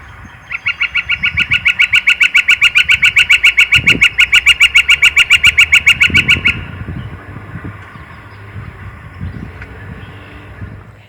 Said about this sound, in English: let's have a listen to the song of the northern flicker.